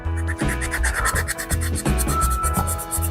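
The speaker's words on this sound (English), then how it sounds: "So I'm just scuffing it up really well." A surface being scuffed up with an abrasive before painting, giving repeated rhythmic rasping strokes, loud and close, with no talking.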